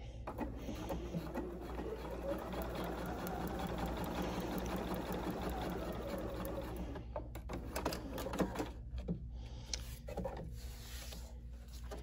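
A sewing machine runs steadily while stitching fabric onto a paper foundation template, a quiet even hum that gives way to scattered clicks and handling rustles near the end.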